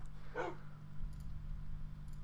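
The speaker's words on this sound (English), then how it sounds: "Who the fuck is hurting my dog?" In the Minecraft video game a dog gives one short, sharp bark over a low steady hum, fairly close, with no talking.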